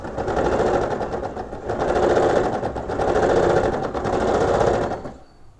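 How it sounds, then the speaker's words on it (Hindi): A sewing machine runs in long steady bursts as six petticoat panels are stitched together, a rapid mechanical whir that surges and eases with brief slowdowns before stopping near the end, loud and close with no talk. "अब मैं जो 6 पीस है पेटीकोट की उसको मैं मशीन में सिलाई कर रही हूँ।"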